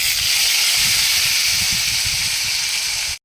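Ginger, onion and garlic paste hits hot oil with bay leaf and cumin seeds, giving a loud, even sizzling hiss that runs steadily and then cuts off abruptly.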